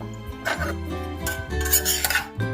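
Cauliflower pieces being tossed with onion, coriander, curry leaves and spices in a metal pan, giving close, loud scraping and clanking of a spoon against the pan in steady bursts, with no talking.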